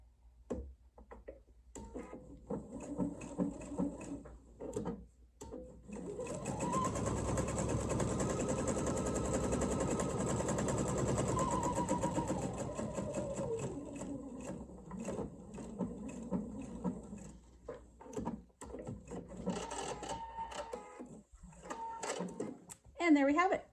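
A sewing machine stitches fabric for a jar lid opener in one steady run of several seconds, with clicking handling before and after and a voice talking throughout.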